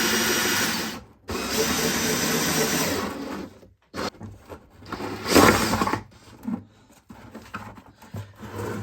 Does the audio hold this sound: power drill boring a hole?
yes